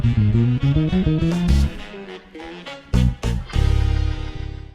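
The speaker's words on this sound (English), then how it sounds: "the fairly horrendous unison lick that happens between the solos" Bass and band playing a dense, jagged unison lick from a jazz-funk tune, with rapid staccato note runs and punchy hits, loud and without talking.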